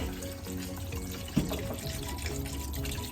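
Bottled mineral water poured into a pot of Filipino beef nilaga, a steady close gurgling stream with one brief splash partway through.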